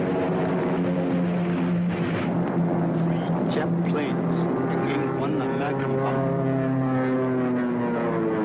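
A Japanese propeller airplane drones overhead in a 1942 film, a loud continuous engine hum with shifting pitch that fills the whole stretch.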